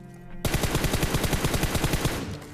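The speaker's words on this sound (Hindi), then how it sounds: "तभी देखो उसने फिर से सिंगल पे गोलियां चलाई" An AKM in PUBG Mobile on the Erangel map fires a rapid, evenly spaced string of about twenty sharp shots. The burst starts abruptly after a short quiet and runs loud and close for about two seconds.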